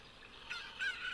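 A cucco chicken from the video game The Legend of Zelda: Ocarina of Time lets out a couple of short, squawking honk-like clucks, the second call sharper and louder, with no talking.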